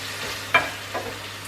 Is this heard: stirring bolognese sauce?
yes